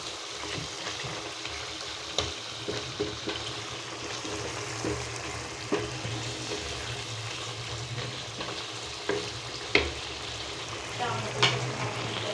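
Chicken karahi simmering and frying in a wok-style karahi, a continuous close sizzle and bubbling with occasional scraping and stirring knocks, moderately quiet with no talking.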